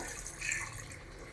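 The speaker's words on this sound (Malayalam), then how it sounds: "കുറച്ചുകൂടെ വെള്ളം ചേർത്തുന്നത്" Water with ground roasted masala is poured into a simmering chicken curry, a soft, steady trickle that is quiet and close, with no voices over it.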